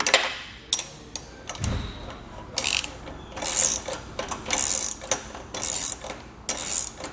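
Ratchet tightening the bars on a Malone EcoLight Sport trailer, with bursts of rapid clicking separated by short pauses, close and fairly loud, plus a brief low thump partway through.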